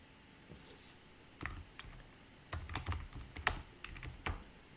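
Keys clatter on a computer keyboard as a Linux server command is typed, short clusters of quick close-up clicks separated by brief pauses, with no voices.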